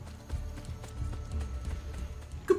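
Horse hooves clip-clop in Assassin's Creed Brotherhood, a steady run of moderately loud hoofbeats with a brief louder knock at the very end and no talking.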